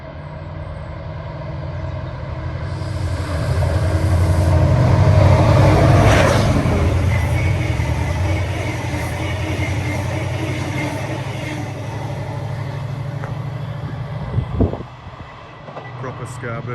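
A locomotive-hauled Scarborough train passes near Dewsbury, a loud rumbling roar that builds over several seconds, peaks mid-pass and slowly fades, with a brief clank near the end and a voice talking at points.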